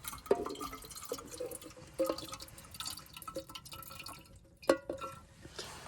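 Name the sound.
leftover kettle water poured back into a bottle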